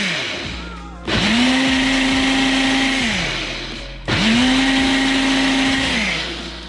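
A Ninja blender whirring through fire-roasted salsa in two close, loud bursts, each spinning up sharply, holding a steady high whine, then winding down.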